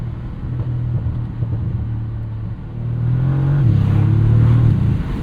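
A 2027 Bentley Continental GT S coupe with a 671 hp V8 drives along a road, its engine droning low inside the cabin and then swelling into a louder rising rev as it accelerates.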